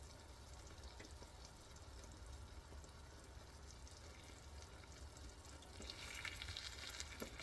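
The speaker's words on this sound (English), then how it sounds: "it's always good to watch corn, especially when you're frying it" Steady, crackling sizzle of corn frying in a hot pan, continuous throughout and growing a little louder and brighter near the end; no one speaks.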